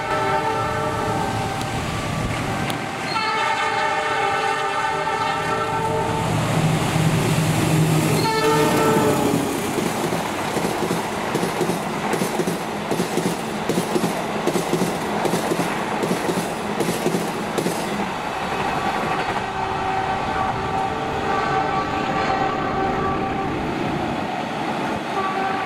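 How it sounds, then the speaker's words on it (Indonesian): A Semarang–Jakarta direct train speeds past at high speed, its horn sounding in long harmonic blasts before a loud, steady rush of wagons and rapid wheel clatter fills the rest. "Dan inilah kereta api yang kita tunggu-tunggu, yaitu kereta api direct train rute Semarang-Jakarta"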